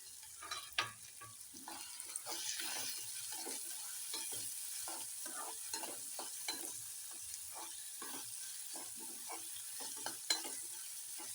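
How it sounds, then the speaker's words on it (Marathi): Chopped onion and green chili fry in a pan for upma, giving a continuous soft sizzle with repeated scraping stirs throughout, fairly quiet and close, with no voices. "कांदा आणि हिरवी मिरची दोन्ही पण तळून गेले"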